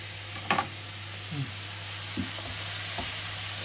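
Broccoli goes into a hot pan of chicken for a chicken broccoli stir fry, bringing a steady close sizzle broken by a few soft thuds and scraping stirs of the pieces.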